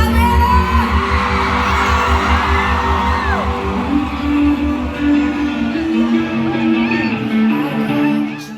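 A large concert crowd at a show in Atlanta whoops, yells and cheers loudly, filling the space with a dense roar of many voices that holds steady throughout.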